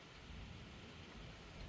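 Steady, soft rain falls with a low rumble of thunder rolling beneath it, a continuous even wash of sound with no voices.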